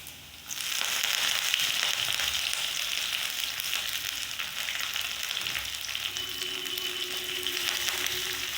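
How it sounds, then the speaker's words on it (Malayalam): Steady, loud sizzling of leaves frying in hot oil, a continuous crackling hiss that starts abruptly and holds throughout, close up with no voices. "ഇനി നമുക്കിതിലേക്ക് കറിവേപ്പില കൂടി ചേർത്ത് കൊടുക്കാം"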